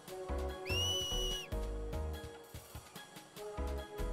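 A finger whistle from Final Fantasy X HD, blown to cheer on Blitzball players: one loud, sustained, steady high whistle of nearly a second, laid over game music and effects.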